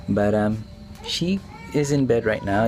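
A small cat named Nina whines and meows by herself in bed, a series of short nasal cries close by, sounding between and under a man's spoken words.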